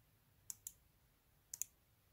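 A Zelos Swordfish 40 dive watch bezel, worn in, turned in two quick double clicks about a second apart, crisp and close against near silence.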